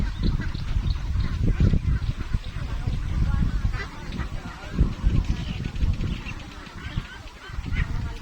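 Young domestic ducks about two and a half months old, raised in a pen, honk and quack in a continuous noisy chorus close by, with people talking over the flock.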